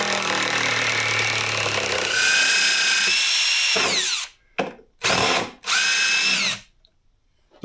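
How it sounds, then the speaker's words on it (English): A power drill fitted with a Forstner bit bores into wood with a loud grinding whir that rises in pitch as it spins up. Several short bursts follow, separated by brief silences. "I think I'm gonna get a Forstner bit."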